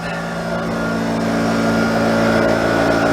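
Air compressor running steadily during a tire swap on a Navy generator trailer, a loud continuous motor drone with a constant hum and no breaks.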